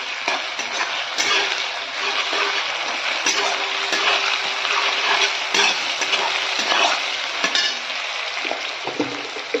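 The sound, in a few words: frying onions and ginger-garlic paste in oil for mutton curry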